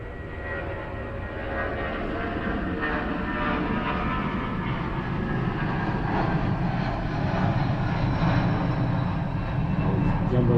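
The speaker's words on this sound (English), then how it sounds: "Jumbo jet number 687 goes on overhead." Jumbo jet passing overhead above a cricket match between the Empire State Titans and NJ Stallions, a loud, steady, broad engine roar that swells slightly over about ten seconds with no break.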